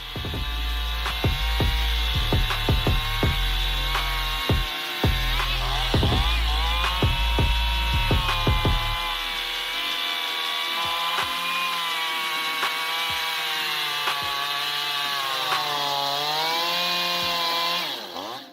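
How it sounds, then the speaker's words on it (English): A big chainsaw machine cuts through a wood log, its engine droning loudly and steadily throughout with rising and falling pitch, a deeper rumble during the first half as the bar bites into the log. "In less than 1 minute, this machine can cut the log neatly."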